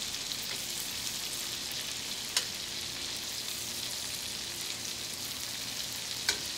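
Garlic shrimp frying in a hot pan, a dense steady sizzle heard close up, broken by a couple of sharp pops or spatters.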